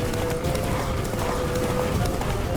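Roach, Geralt's horse in The Witcher 3, galloping with a dense, steady drum of hoofbeats that fills the clip, mixed with game ambience and no voices.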